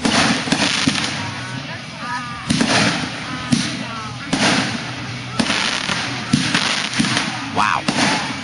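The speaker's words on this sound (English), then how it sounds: "told you it's gonna be a long fireworks show." Fireworks at a July 4th show burst repeatedly, with sharp booms and crackling trails recurring every second or two against a steady background, while people talk and exclaim nearby throughout.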